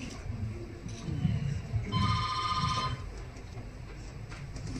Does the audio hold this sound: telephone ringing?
yes